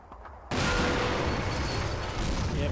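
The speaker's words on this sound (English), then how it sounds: "it looks like we've got some T-34s back here somewhere taking shots of that Panzer IV" T-34 tanks fire on a Panzer IV in Combat Mission's Eastern Front battle: a sudden heavy cannon blast cracks in after a quiet half second, then a dense, loud rumble of battle noise carries on without voices.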